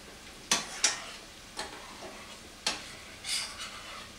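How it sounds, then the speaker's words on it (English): Creamy lemon garlic shrimp sauce is stirred in a pan with a utensil, giving a few separate scraping, clinking strokes at an irregular pace over a faint background sizzle. The strokes are close and moderately loud, and no one speaks. "Let's stir this sauce a little bit back here."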